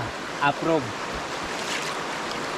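Stream water flows near a waterfall in Devil's Glen Forest, Co. Wicklow, Ireland, a steady close rushing hiss that runs throughout, with brief voices near the start.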